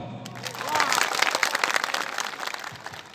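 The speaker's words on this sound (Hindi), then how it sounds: "जोरदार तालियां" A crowd at an Adivasi political rally in Margherita breaks into sustained, dense applause and clapping, broad and fairly loud, with voices and crowd noise mixed through it.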